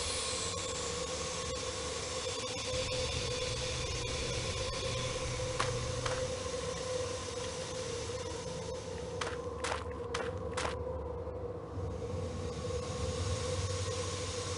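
Train departing in the video game Murder on the Orient Express, a steady rumbling rolling drone with a sustained tone and a few sharp metallic clanks near the end, moderately loud and without talk.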